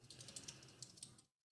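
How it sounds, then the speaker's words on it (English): Quick, fairly steady typing on a computer keyboard, a run of close, light clicky keystrokes that stops abruptly, leaving silence. "Sorry, I'm typing and talking at the same time."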